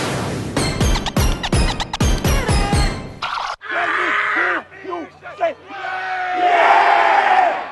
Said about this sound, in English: At the start of every San Leandro football game this year, you will hear senior Joe Fotu firing up the Pirates before they take the field